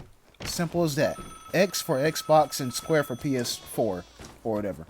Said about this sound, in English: Now that's the phone.